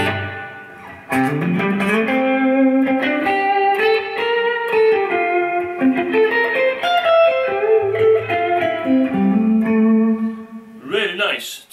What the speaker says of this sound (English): Yeah, reverb all the way.